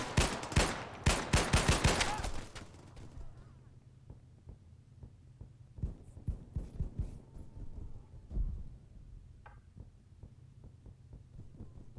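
Gunfire in an airsoft-style shooting game indoors: a rapid burst of loud shots, then sparser single pops and rattles over a low hum, with faint voices.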